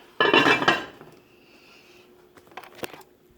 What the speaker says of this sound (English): Now what I'm going to do is put the lid on.